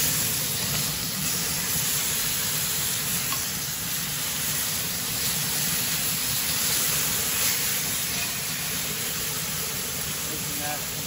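Bacon-wrapped fillets searing in a cast iron pan give off a steady, loud sizzle and hiss that runs unbroken throughout, with no pauses.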